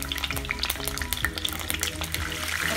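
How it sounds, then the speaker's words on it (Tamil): Small slit brinjals frying in oil in a pan, a loud dense crackling sizzle close up with a few stirring scrapes, steady throughout without voices. "கத்திரிக்காய் முதல் அதில் ஃப்ரை பண்ணிடலாம்."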